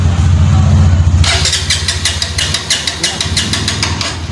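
A motorcycle out of gas being cranked without starting: a low hum gives way to a rapid, even run of loud mechanical cranking pulses that never catch, close by.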